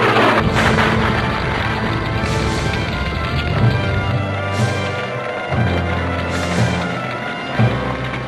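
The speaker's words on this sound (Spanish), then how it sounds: "Siguen las explosiones en el aeropuerto" Dull booms and rumbling blasts of bombs and exploding fuel at an airport roll one after another over a constant roaring background, some thuds louder and sharper than others.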